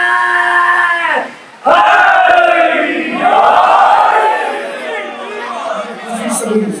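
A large crowd at a Shia majlis mourning gathering in an imambargah roars loud slogan responses in unison, one brief pause before a second sustained swell of shouting voices.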